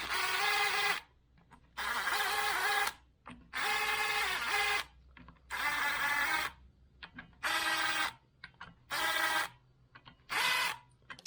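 An impact gun tightens clutch cover bolts on a Yamaha TTR125LE motorcycle in about nine short, loud whirring bursts separated by brief pauses, close by with no talking.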